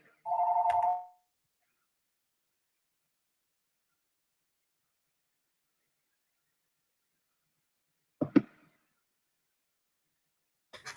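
A phone ringing loudly in short bursts: one sustained tonal ring, then a silent pause, then a sharp broken ring and the start of another near the end, heard alone without talk.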